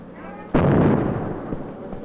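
A single cannon shot fires suddenly, a loud booming blast that rumbles and decays over about a second and a half against a quiet background.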